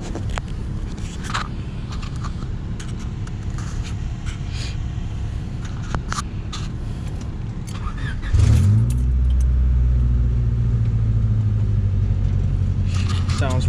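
A 1996 Honda Civic project car: keys jangle and there is some handling noise, then the engine cranks and starts near the end and settles into a steady low idle rumble, close by.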